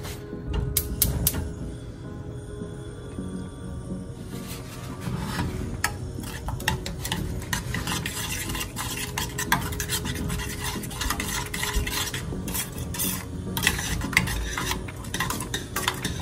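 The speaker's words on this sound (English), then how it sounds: "stirring frequently" Homemade BBQ sauce is stirred in a pot on a stove over medium-high heat, with repeated close scraping and rubbing of a utensil against the pot in a steady rhythm that continues throughout without speech.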